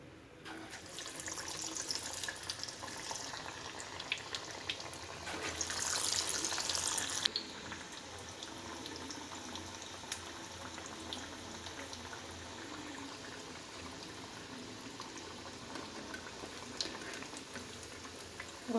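Fenugreek leaf masala vadas deep frying in hot oil give a soft, continuous bubbling sizzle with a brief louder surge early on, fairly quiet and without speech.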